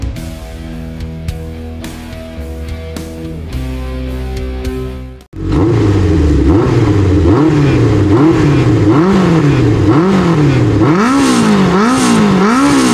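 A Honda CB900F Bol d'Or motorcycle engine with a Marving aftermarket exhaust revs hard and repeatedly with a loud, raspy note, rising and falling in rapid bursts after a brief pause.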